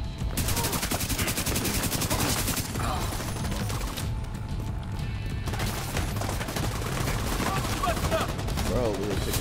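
Heavy automatic gunfire rattles through a shooter game's Grand Washington Hotel mission in dense, sustained bursts. It stays loud and close throughout, with only a short lull midway.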